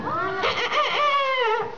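A person imitates a rooster's crow, a single drawn-out rising and falling vocal call lasting under two seconds.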